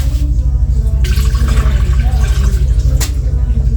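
Leftover water draining off a cooking pot before powder seasoning, a steady rushing gurgle of pouring liquid with brief louder splashes, close and continuous throughout.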